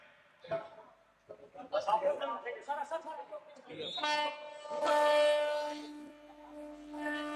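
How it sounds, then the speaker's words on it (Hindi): A MEMU train departs from Abhanpur on the Abhanpur–Raipur rail section at a flag-off event, its horn sounding loudly and sustained in the second half after a stretch of talking. "अभनपुर से ये ट्रेन रवाना हुई है।"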